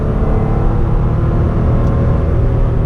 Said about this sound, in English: That was the engine behind me.